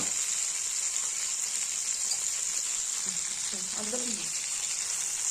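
Brinjal pieces fry in a pan with a steady, even sizzle, moderately loud and close, while a voice speaks briefly over it.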